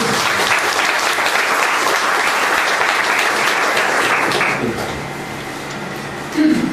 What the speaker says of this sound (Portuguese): Vamos aplaudir a palavra de Jesus?